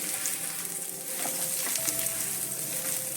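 Small onions and chopped ginger fry in a tablespoon of coconut oil for a prawn roast masala, giving a steady, close sizzling hiss with a few soft stirring taps throughout.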